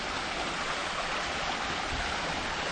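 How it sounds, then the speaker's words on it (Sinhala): Stream water falls beside a cabana at a riverside nature resort in Gampola, a dense, even roar of rushing water that stays loud and close without a break through the short stretch, with no voices. "වතුර වැටෙන සද්දෙත් එක්ක"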